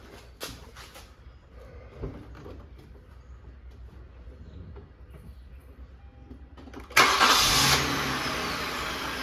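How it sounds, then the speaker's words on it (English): Quiet rustling and faint clicks, then a 2007–2011 Hyundai Azera engine cranks and catches, settling into a loud, steady idle. "start the car"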